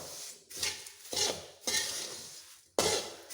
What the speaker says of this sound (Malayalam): വറുത്ത് ചേർത്ത് യോജിപ്പിക്കാം.